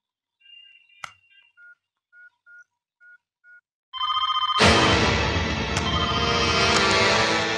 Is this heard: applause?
no